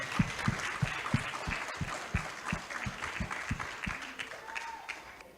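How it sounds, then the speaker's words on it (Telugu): An audience claps steadily and warmly for Patri sir, sustained applause of moderate loudness that gradually thins out toward the end. "ఒకసారి పత్రి సార్కి గట్టిగా చప్పట్లు కొడదాం."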